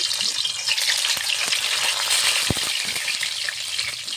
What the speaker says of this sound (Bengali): কড়াইতে আমি ডিম ভাজার জন্য সরষের তেল দিয়ে দিয়েছি।